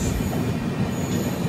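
A goods train rolls past a wagon care unit, its steady low rumble of wheels and wagons carrying on without a break, with a faint squeal of wheels on rail over the top.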